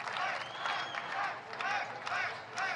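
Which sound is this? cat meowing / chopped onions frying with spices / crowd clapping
crowd clapping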